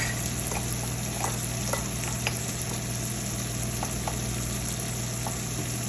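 Goat liver fries on a tawa with spices in a dense, steady sizzle, with a few faint utensil taps and scrapes over the constant crackle.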